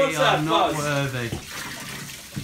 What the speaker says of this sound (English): Oh, look, how nice is that? Hot water.